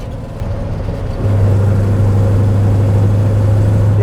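A 1967 Bizzarrini 5300 GT idling as it warms up, a steady close low engine drone that steps up in level about a second in and then holds even and loud.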